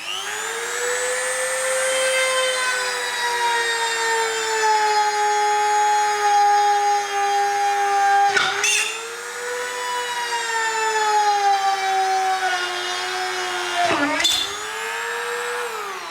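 A YASUKA YDG-135A mini die grinder runs continuously under test, a loud high whine that sags and recovers in pitch as load changes, with two brief dips where the motor bogs down.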